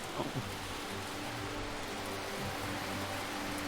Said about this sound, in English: if there's a lot of noise now, it's because there's a lot of rain outside all of a sudden